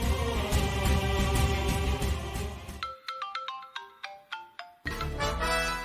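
A mobile phone ringtone plays a melodic run of short, bright tones in the middle, set between stretches of dramatic background music in a Telugu TV drama scene.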